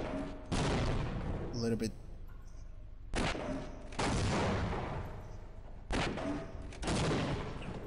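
Gunfire aimed at a tank in the video game Half-Life, loud bursts of rapid shots in three long volleys with brief pauses between, and a voice speaking briefly in a gap.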